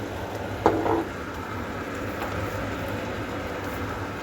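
Chicken liver stews in a pan with a low, steady bubbling simmer. A brief clink of a utensil comes early on, and no one talks.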